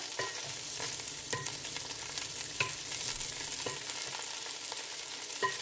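A spoon stirs butter melting in a hot pan for a pepper shrimp dish, with a soft continuous sizzle broken by regular, close scraping clicks of the spoon against the pan, and no talking.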